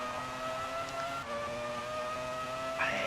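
A Formula 1 race car engine whines at high, steady revs on a qualifying hot lap through the Adelaide street circuit in a PS1 Formula 1 game, loud and continuous with slight pitch shifts.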